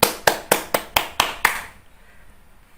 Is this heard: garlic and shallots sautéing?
no